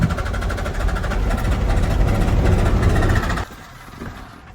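A 12-valve Cummins diesel with a blown head gasket runs rough and loud, a dense knocking rumble that cuts off abruptly near the end, leaving quieter background.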